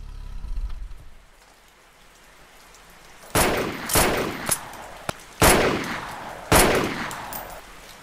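Several sharp gunshots ring out one at a time with pauses between them, fired from a car at night, over the soft hiss of steady rain.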